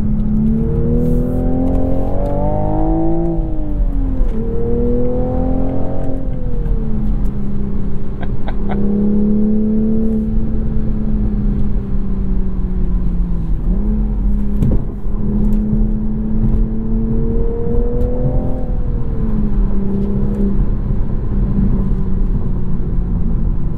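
A 2023 Toyota Supra with manual gearbox revs loudly and continuously, its exhaust burbling and crackling through rising and falling engine pitch, with a few sharp pops along the way and no voices.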